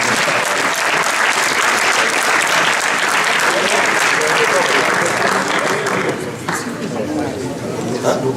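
An audience applauds two debaters after a debate on Swiss-EU free movement, with loud, sustained, dense clapping that thins slightly toward the end under faint chatter.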